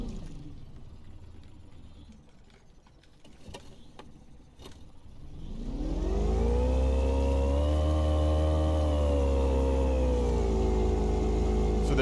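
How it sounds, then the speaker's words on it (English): Boat engine in the Fishing Planet video game, with a quiet lead-in before the engine starts around six seconds and then settles into a loud, steady, continuous drone that holds to the end. "We're going to start the engine, and we're just going to go straight left."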